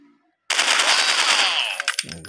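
A single sniper rifle shot in a dinosaur-hunting Android shooting game, a sudden loud blast that rings on for about a second and a half before a short decaying tail, close and with no talk.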